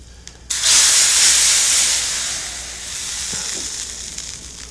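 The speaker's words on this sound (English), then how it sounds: "Now let's bring this over to the soup for a final explosive seasoning." Hot spice seasoning for a North Indian lunch poured into soup, erupting in a sudden loud hiss and sizzle that stays strong for a second or two and then settles into a softer, steady bubbling fizz.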